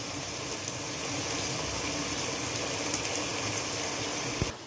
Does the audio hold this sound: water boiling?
yes